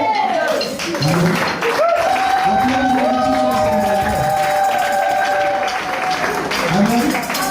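A church congregation cheering and clapping, a loud, continuous wash of applause with raised voices calling out over it throughout.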